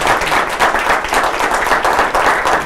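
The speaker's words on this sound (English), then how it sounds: "we could just a round of applause for our guest." Dense, steady applause from an audience fills the whole moment, loud and close, with no voices rising above the clapping.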